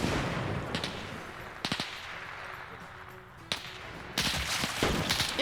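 Video game gunfire as a magazine is emptied, with bursts of sharp rapid shots, a pause and then a dense sustained burst near the end, heard close over faint background ambience.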